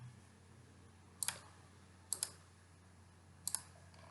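Computer mouse clicks, faint and close: three quick double clicks spaced apart over low steady background hum.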